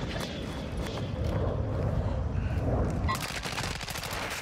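Gunfire in a video game shooter: fast, dense volleys of rapid shots blur together, easing briefly before another sharp, crackling barrage. Quieter game ambience sits underneath.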